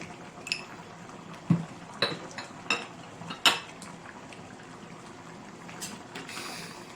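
Spoon stirring mutton curry in a metal pot, a handful of close clinks and scrapes against the pot at irregular intervals over a soft background hiss.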